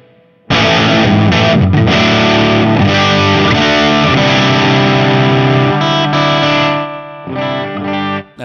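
Loud, harsh electric guitar through a KING-DRIVE high gain distortion pedal on its hard clipping setting, heavily clipped and saturated, sustained chords ringing almost continuously with a couple of brief breaks.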